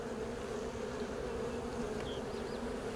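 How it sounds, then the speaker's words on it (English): A dense, steady hum of many honeybees from a swarm buzzing close together inside a hive, continuous and even, with occasional individual bees whining past. "So there's a lot of bees in here"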